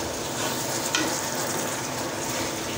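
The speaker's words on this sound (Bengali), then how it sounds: "তো আবারও ভালো করে নেড়ে চেড়ে নিচ্ছি" Beef and mung dal sizzle steadily in a frying pan while being stirred, a continuous even frying hiss with a faint scrape of the utensil partway through.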